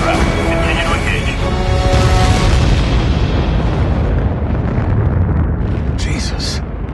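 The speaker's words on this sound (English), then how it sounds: "Another of those explosions, and they had Russians with them." Explosions in the video game Ace Combat set off a loud, sustained rumbling boom. The roar washes over the whole stretch and tails off slowly, with lighter crackles near the end.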